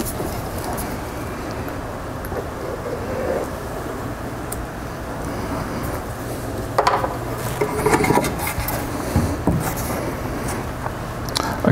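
Solid wood edging is rubbed back and forth against plywood held in an end vise, a steady, close scraping rasp throughout that grows a little louder and more uneven toward the end.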